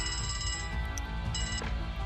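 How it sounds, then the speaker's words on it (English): A telephone rings in the Crossbell Police Special Support Section office in the game Trails to Azure, its repeating electronic trill running steadily over a dense bed of music and room sound. "let's go answer the phone"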